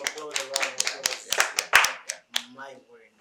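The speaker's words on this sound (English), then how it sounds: "A round of applause." A few people clap around the table on a podcast set after a guest performs, with a short burst of close, uneven hand claps mixed with excited voices and laughter.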